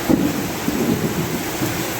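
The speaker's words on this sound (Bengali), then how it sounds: "মুষলধারে বৃষ্টি শুরু হয়ে গেছে।" Heavy downpour in Dhobaura, Mymensingh, with a steady loud roar of rain and low rumbling of thunder underneath, no voices.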